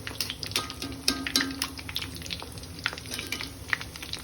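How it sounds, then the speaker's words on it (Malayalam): Cheese-filled food frying in hot oil, with a dense crackle of popping bubbles and spatters over a steady sizzle and some faint background hum. "ഇപ്പം നല്ല ചൂടായി വന്നു തുടങ്ങി എണ്ണ."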